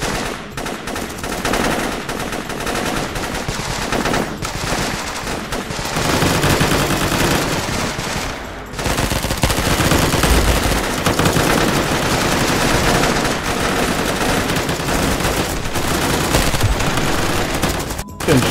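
Dense, loud gunfire in the military shooter Squad during an assault, with sustained automatic bursts and overlapping shots rolling on almost without break, plus a few sharper cracks standing out.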